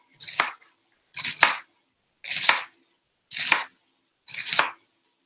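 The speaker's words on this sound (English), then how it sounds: "we're just going to shred this up. So just some nice, thin slices" A knife slices thinly through vegetables on a cutting board for pancit bihon, giving five crisp, evenly spaced cuts about a second apart, close and loud against near silence.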